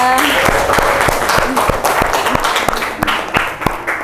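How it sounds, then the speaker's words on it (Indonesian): Classroom applause for a student's correct answer, a small group clapping steadily and close by, with a teacher's voice speaking over it at the start. "Beri tepuk tangan ke Zia."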